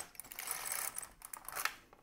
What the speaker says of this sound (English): they'll get picked up by the carriage in the next pass.